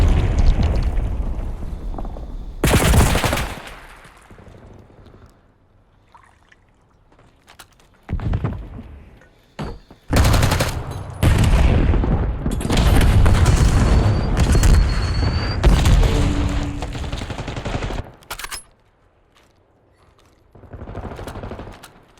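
Heavy booming explosions from a Hellstorm missile strike in a competitive Call of Duty-style shooter match, several loud blasts and rumbling bursts with gunfire between them, separated by quieter gaps.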